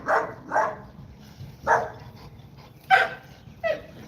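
Dogs, Americane da Presa type, tussle over a piece of cardboard with a handful of short barks, yips and growly bursts spaced irregularly, close by and fairly loud.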